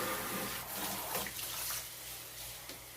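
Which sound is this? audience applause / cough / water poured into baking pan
water poured into baking pan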